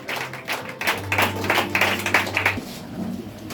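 A church congregation claps and cheers together during a worship service, with dense, steady applause over a low sustained musical tone for a few seconds.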